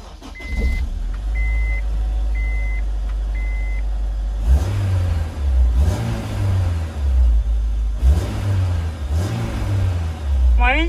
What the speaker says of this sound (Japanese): ではエンジンかけてみたいと思います。